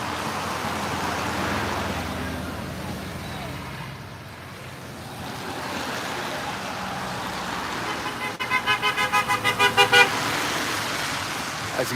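Passing cars on a roadway, with traffic noise washing by and a horn tooting in a quick, repeated burst of short beeps near the end.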